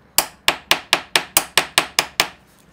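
A force nail is hammered in to hold an upholstery spring, with nine sharp, evenly spaced hammer blows in quick succession, loud and close.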